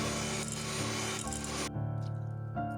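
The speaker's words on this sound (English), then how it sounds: "We'll need 2 eggs and 1 cup of sugar. Whisk until it's light and fluffy." Two eggs and a cup of sugar being whisked for a cake batter: a close, busy scraping and rubbing that runs steadily, then cuts off sharply partway through, leaving a quieter tail.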